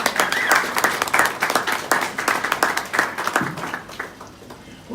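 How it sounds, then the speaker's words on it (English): Wedding guests applaud at a reception at the Sheraton Park in Sydney, a dense, steady burst of many hands clapping that swells and then eases off over several seconds. "Please give them a round of applause."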